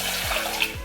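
Water pours steadily into a cooking pan already holding half a cup of rice, a continuous close splashing rush with no voices.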